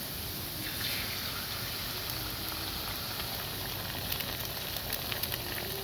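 Egg frying in a pan with potatoes, a steady close crackling sizzle with faint pops, no voices.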